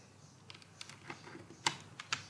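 Light typing on a computer keyboard while designing a banner: a few scattered soft clicks building to two sharper keystrokes near the end, close and quiet with no talking.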